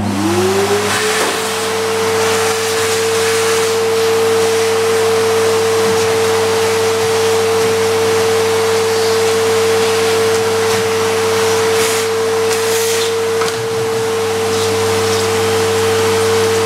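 A vacuum cleaner removes dust from an HP dc7700 desktop computer: the motor spins up quickly into a loud, steady whine with a constant droning hum, running alone throughout.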